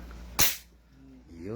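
A single sharp VSR airsoft sniper rifle shot cracks out close by, then quickly dies away, with faint voices murmuring afterward.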